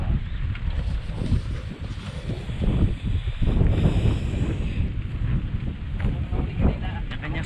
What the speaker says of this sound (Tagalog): grabe naman ang hangin dito ngayon.